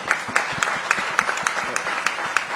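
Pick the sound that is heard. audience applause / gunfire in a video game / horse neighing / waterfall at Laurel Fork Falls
audience applause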